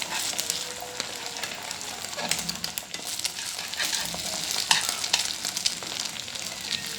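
A keema burger patty fries in a pan with a dense, steady sizzle and crackle, close and continuous with occasional stirring-like bursts and no talking.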